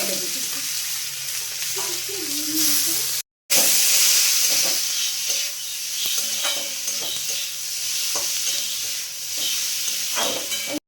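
Food fries and sizzles loudly in a pan with a constant hiss while being stirred with scraping clicks, and tomatoes go in partway through, after a brief cut in the sound.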